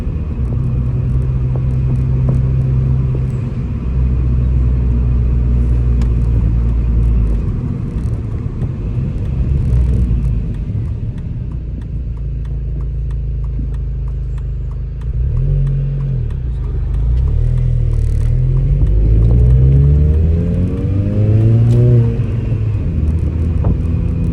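A Mini with a newly repaired clutch drives along a street, its engine rumbling loudly and steadily from inside the cabin, rising and falling as it accelerates and shifts through the gears.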